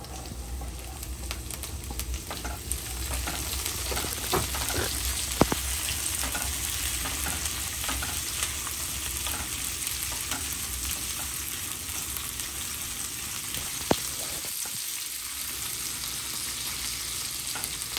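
Chopped green chillies and golden-fried onions sizzle in hot oil for a long, steady stretch, with the scrape and clatter of stirring over a dense, continuous frying hiss and a few sharper knocks.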